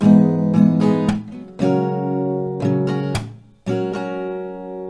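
Acoustic guitar strummed in a pattern, down-down-up strokes broken by sharp clap-like muted hits, chords ringing loud and close with brief gaps between phrases.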